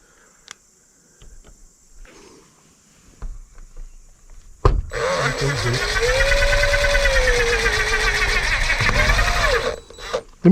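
A power drill drives sheet metal screws into wood while installing windows at a deer camp, a loud whining run of several seconds after scattered handling knocks and thumps.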